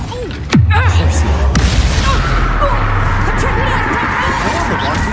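The Depulso spell in Hogwarts Legacy lands as a sudden heavy boom that rumbles on under a steady bed of game ambience, while character voices talk in the background.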